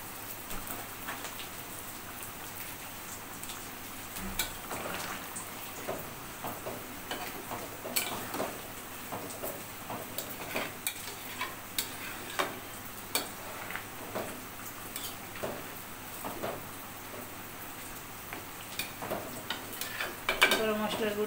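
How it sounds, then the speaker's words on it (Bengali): Homemade garam masala powder gets stirred into a cooking pan, giving a steady rain-like crackle and hiss with scattered spoon scrapes and clinks against the pan, close and moderately quiet. "গরম মশলার গুঁড়িটা নেড়ে চেড়ে মিশিয়ে দিলাম"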